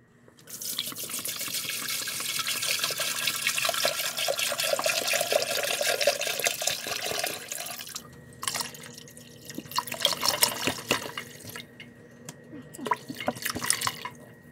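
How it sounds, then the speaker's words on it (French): Hot tap water pouring into a pot holding jars of tomato sauce, a loud continuous gush for about eight seconds, then the flow stops and gives way to intermittent drips, splashes and clinks. "Et je vais couvrir mes pots d'eau chaude du robinet."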